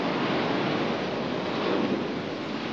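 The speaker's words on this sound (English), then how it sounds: "but the waves here come crashing right up." Ocean waves crash onto a sandy beach in a steady, loud roar of surf with wind noise on the microphone, continuous throughout with no voices.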